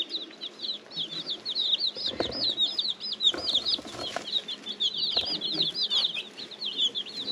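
Many baby meat chicks on an Alaskan homestead cheep continuously in a high, busy chorus, with rustling and occasional clucks mixed in close by.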